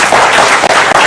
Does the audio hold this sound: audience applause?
yes